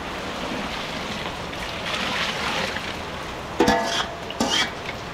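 Water poured into a large cooking pot while making rice porridge, a steady rushing splash running throughout, followed by a couple of short, louder clattering knocks near the end.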